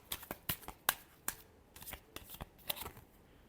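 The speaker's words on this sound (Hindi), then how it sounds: "Last shuffle." Tarot cards are shuffled close up in a quick series of crisp riffling bursts and soft slaps, irregular and quiet, with no voices.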